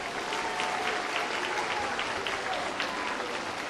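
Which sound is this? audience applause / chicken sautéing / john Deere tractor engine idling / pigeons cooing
audience applause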